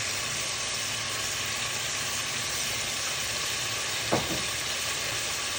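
Steady sizzle of seasoning and ingredients frying in a pot for Guyanese cook-up rice, a continuous broad hiss with one brief clink near the end, no talking.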